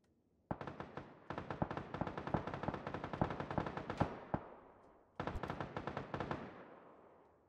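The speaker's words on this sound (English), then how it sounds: "They trying to shoot you, are they?" Gunfire from the video game PUBG: two long bursts of rapid automatic shots, loud and close, with a brief gap between them and no talking.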